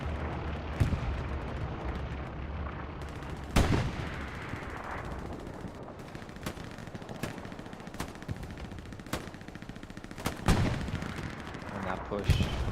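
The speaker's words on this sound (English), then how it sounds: "Ah, smoke artillery landing in front of 76s." Smoke artillery lands amid gunfire on Utah Beach in Hell Let Loose, with sharp booming impacts and steady scattered rifle and machine-gun shots, some rounds close and loud, others distant.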